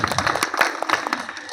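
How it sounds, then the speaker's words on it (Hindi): Audience applause at a village meeting held in a school, a dense patter of many hands clapping steadily throughout a short burst, fairly close and lively. "आपके लिए तालियां हो जाए जोरदार।"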